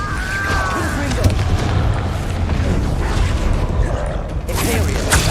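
Explosive Confringo spell blast in the wizarding video game Hogwarts Legacy, a booming burst amid dense continuous combat noise with shouted voices over it, and a fresh bright crackle near the end.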